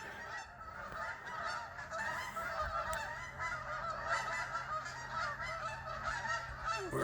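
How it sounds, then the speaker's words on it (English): Geese honking near a conservation area along a hiking trail, a continuous chorus of overlapping calls from a flock at moderate distance, fairly quiet against outdoor background. "Apparently we're going to see some geese."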